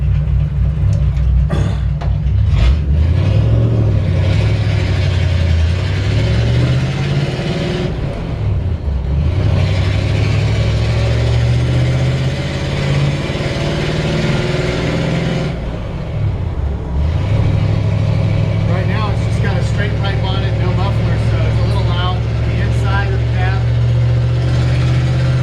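Original matching-numbers engine of a 1950 Ford F-1 panel truck with a 6-volt system, running at steady idle then revving up and settling back, a continuous low rumble that rises and falls in pitch throughout.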